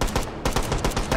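Rapid bursts of gunfire from a gun in the H3VR virtual-reality shooting game, a dense stream of sharp loud shots with no talking.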